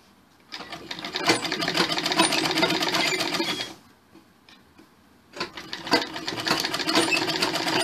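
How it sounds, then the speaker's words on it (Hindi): A sewing machine stitches a blouse in two long steady runs with a short pause between them, its fast, even mechanical chatter close and loud. "हमने ये सिलाई दे दी।"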